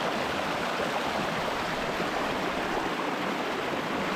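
Desert oasis creek water flows and rushes nearby, a constant broadband babbling roar that stays loud and unbroken from start to finish, with no voices.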